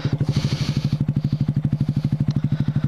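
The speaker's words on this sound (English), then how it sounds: "Exhaust sounds good." A Honda Grom motorcycle idles on an off-road trail, its exhaust pulsing in a fast, steady putter close by, with a bit of rustle and breathing over it.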